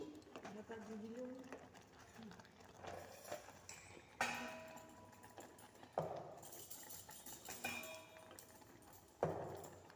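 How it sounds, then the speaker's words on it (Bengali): Payesh rice pudding is stirred in a pot for temple bhog, with intermittent clinks and scrapes of a utensil against the metal rising over a steady murmur of nearby talk. "একদিকে পায়েসটা নাড়চাড় করে নিচ্ছি"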